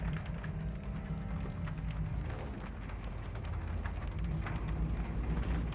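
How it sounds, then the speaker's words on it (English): Heavy rain storm in Shadow of the Tomb Raider, a dense, steady downpour hissing loudly and continuously with a deep low rumble underneath and no talking. "I don't like this storm."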